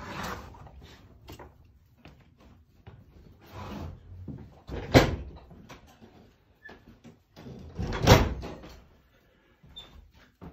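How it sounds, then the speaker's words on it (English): An old wooden Dutch door with original hardware in a historic colonial house, creaking and rubbing as it swings, with two sharper knocks of the door meeting its frame, close by indoors. "we just came through a Dutch door"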